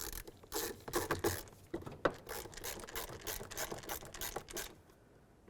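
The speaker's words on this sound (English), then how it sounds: "Now we can put in our Phillips head screw" Screwdriver driving a Phillips head screw into the front interior door handle of a 2000-2005 Buick LeSabre, close, quiet ratcheting clicks and gritty turning bursts in an uneven rhythm, tapering off at the end.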